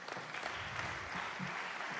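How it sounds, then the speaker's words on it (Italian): Audience applause after a minister's speech at a festival of regions and autonomous provinces, a faint, steady, distant wash of clapping that holds evenly throughout, with low murmuring beneath. "Grande applauso, grazie davvero al Ministro Roberto Calderoli"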